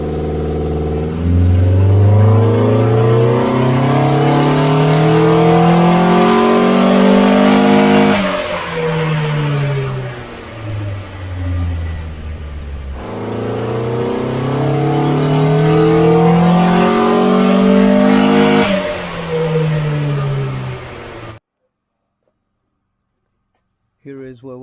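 An L20B engine in a Datsun Stanza revs hard on a dyno, climbing steadily in pitch through two long pulls before cutting off abruptly, loud and close throughout.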